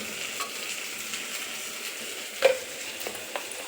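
Mutton frying in a pan until its water cooks off, a steady close sizzle with occasional spoon scrapes and one sharper clink against the pan.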